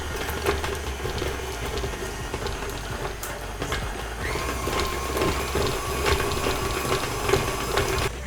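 A stand mixer with a paddle whipping butter, running as a continuous steady whirring drone with faint rattling throughout, fairly close and loud, with no talking.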